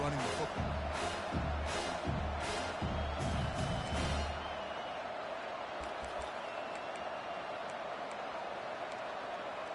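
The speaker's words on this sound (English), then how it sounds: "The roar of the crowd trying to fuel this defense to keep them pinned in their own end." A stadium crowd at a Michigan vs Washington college football game keeps up a steady roar, with rhythmic pounding beats early on, all running beneath a commentator's voice.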